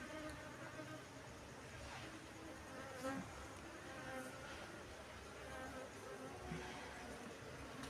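Honeybees being moved into a hive box hum and buzz steadily at low level throughout, with occasional louder passes of single bees nearby.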